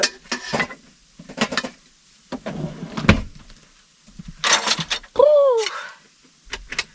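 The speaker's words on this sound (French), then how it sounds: "je range la vaisselle" Scattered clinks and clatters of dishes and utensils being handled and set down, in short bursts with pauses between.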